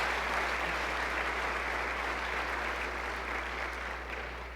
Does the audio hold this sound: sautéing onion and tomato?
no